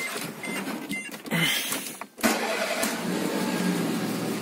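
A cold Peugeot 206 with a 1.1 petrol engine cranks briefly, catches after about two seconds and then settles into a rough, uneven idle, recorded close by.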